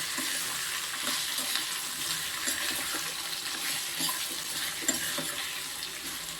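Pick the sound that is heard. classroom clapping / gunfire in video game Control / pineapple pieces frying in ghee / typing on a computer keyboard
pineapple pieces frying in ghee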